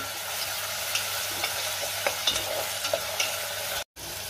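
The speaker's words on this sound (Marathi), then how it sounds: "कांदा मी 1 मिनिटभर परतून घेणार आहे।" Steady sizzling of onions frying in a pan, with light scraping of a spatula stirring at intervals, close and fairly loud.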